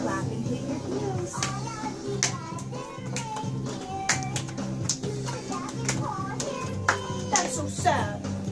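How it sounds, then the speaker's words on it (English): Children clap their hands during a winter dance recital, with scattered sharp claps and taps over steady background music and young voices throughout. "Clap and hit your heels."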